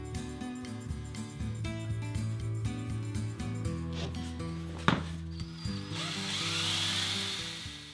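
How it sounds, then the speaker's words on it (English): A power drill bores into a wall above a bag while a corner desk for a flight simulator is being built, giving a continuous whirring drone whose pitch shifts in steps, with a brief sharp knock partway through. "I try to keep the mess down to a minimum by drilling over the bag."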